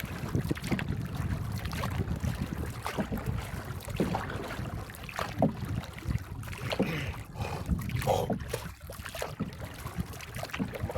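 A small wooden fishing boat rides at sea in calm waves, with water sloshing against the hull and wind buffeting the microphone throughout, continuous and fairly close.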